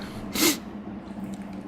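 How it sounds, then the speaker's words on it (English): A single short, breathy sneeze bursts out early, then fades into a quiet room hum. "Hold, I have a sneeze coming."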